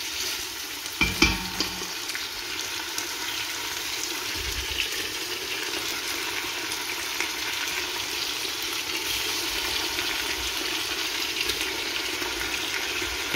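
Meat pieces for a Neapolitan ragù fry in oil with a loud, continuous sizzle, a few clinks and bumps near the start as they are moved around the pan, and no voices.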